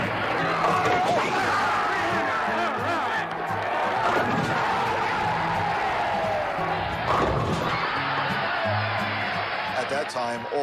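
Crowd at a professional bowling tournament cheering and roaring steadily, with sharp crashing impacts mixed in and a voice talking over it throughout.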